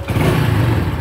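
A Honda Pop 110i motorcycle engine starts and settles into a low, rumbling run, close and loud for about a second.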